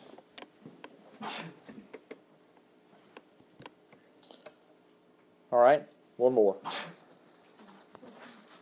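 A single sneeze breaks through quiet room noise and light tapping, and a person speaks briefly around it.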